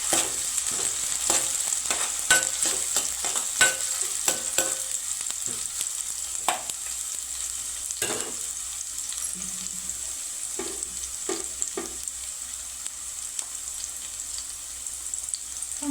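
Green chillies are stirred into a fish curry frying in a pan, with a constant loud sizzle and repeated sharp scrapes and clinks of the spoon against the pan, close up and without talk.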